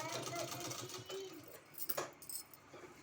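A sewing machine stitches a folded one-inch fabric strip, with a soft rapid mechanical chatter in short runs and pauses, quiet and close, under a voice.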